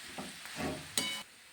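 Leftover chapati churma fries with chilli, cumin and turmeric in a pan, giving a soft, close sizzle with a few stirring scrapes, the last one sharper, before the sound drops away.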